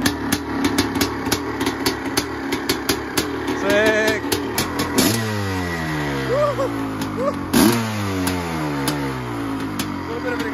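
A Honda CR500 motorcycle engine with the choke off idles and blips, a steady rough two-stroke running with rhythmic knocking, and a few brief throttle rises, while someone talks briefly over it.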